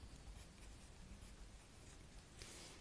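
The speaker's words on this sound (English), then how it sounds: "So we write" Pen scratching across paper while writing out a spelling word, a faint, steady scribbling texture close to the microphone with a slightly brighter stroke near the end, no talking.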